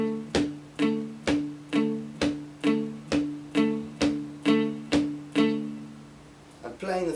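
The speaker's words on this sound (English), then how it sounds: "I want you to hit the 2nd string and the 1st string together," Cigar box guitar with the second and first strings picked together, ringing out in ten evenly spaced twangy double-stops, each decaying before the next, with a brief rustle at the end.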